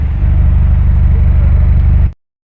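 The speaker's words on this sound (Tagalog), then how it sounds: "Ang ganda ng tunog ng muffler." A jeep engine idles and rumbles through its muffler, a loud steady low pulsing drone close by that cuts off abruptly near the end.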